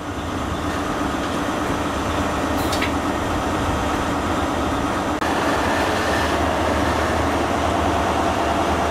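HST power car 43070 pulls out of a station on the Bridgend to Swansea line, heard from outside as a loud, steady engine roar with rumbling wheels on the rails and a brief high squeal partway through.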